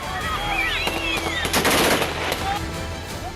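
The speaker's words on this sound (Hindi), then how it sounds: "प्रदर्शनकारियों पर गोलियां चलाने के बाद हालात और बिगड़ गए।" Rapid bursts of gunfire crackle outdoors during protests in Syria, with several sharp shots in quick succession mixed with shouting and other crowd voices.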